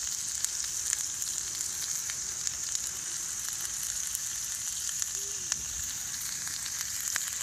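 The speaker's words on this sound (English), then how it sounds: "got the catfish fry going on now" Catfish fillets fry steadily in hot oil, a continuous soft sizzle with faint pops throughout, fairly close and alone without voices.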